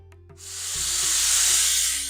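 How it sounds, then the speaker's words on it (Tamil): After a few faint clicks, a loud, sustained hiss of steam bursts from a pressure cooker whistle and holds steady, close and continuous, while sambar cooks. "நம்மளோட குக்கர் முதல் சவுண்டு வருது"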